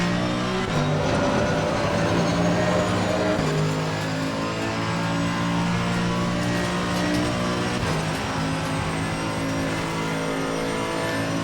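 A Mercedes-AMG GT3 Evo race car at Watkins Glen in Assetto Corsa Competizione, its engine droning loud and steady at high revs, with pitch shifts as it changes gear, up close and uninterrupted.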